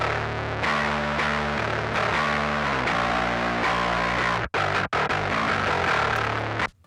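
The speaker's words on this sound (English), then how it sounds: "And then the SM7 sounds like this." A bass part from a song, recorded through an SM7 microphone, pushes out a loud, gritty stream of sustained notes with heavy distortion, broken by two short dropouts near the end.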